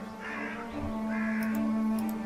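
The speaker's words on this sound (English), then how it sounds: "A dying crow. Not much life left in it." A dying crow in The Last Door giving two drawn-out, hoarse caws over a steady low hum, close and distinct, with no talking.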